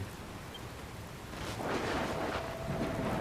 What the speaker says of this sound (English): looks like there's another storm rolling in